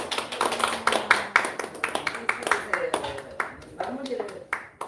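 A small church group claps in a quick, uneven patter for several seconds, with voices talking over it close by.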